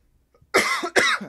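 A person coughs twice in quick succession during a live solar eclipse Q&A stream, two harsh, close bursts after a near-silent start.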